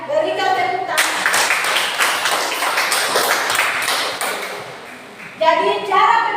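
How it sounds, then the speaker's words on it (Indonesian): Students in a classroom clap together during an Islamic studies lesson. A burst of brisk clapping lasts about three seconds, framed by a teacher's voice just before and after. "Iya, berikan tepuk tangan."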